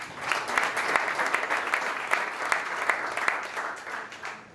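Applause from a conference audience at a healthcare and biotech startup competition as a finalist is welcomed on stage, many hands clapping in a moderately loud, even wash that gradually fades at the end.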